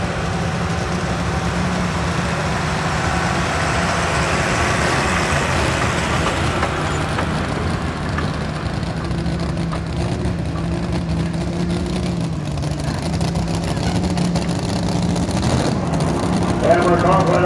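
Loud, sustained roar of the John Deere pulling tractor Drunken Deere at the Wauseon open class tractor pull, a steady heavy engine drone with an announcer talking over it throughout.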